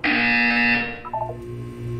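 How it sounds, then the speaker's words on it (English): An electronic buzzer from the video game Portal 2 sounds as one loud, harsh tone, then gives way to quieter lower beeps and hum. "You will hear a buzzer."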